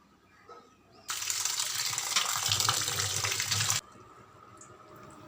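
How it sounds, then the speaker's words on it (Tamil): Tulsi leaves are rinsed under a running tap, a steady, moderately loud rush of water lasting about three seconds before it cuts off, with quiet room sound around it. "லேசாக இது மதிக்க தண்ணியில் துளசி இலைகளை அலசிட்டு"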